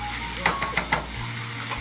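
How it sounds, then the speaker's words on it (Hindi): Mince frying in half a cup of oil in a karahi for Shinwari keema, a dense close sizzle with a few quick scraping stirs in the middle, no voices. "ऑयल डालने के बाद इसको अच्छी तरह भून लेना है।"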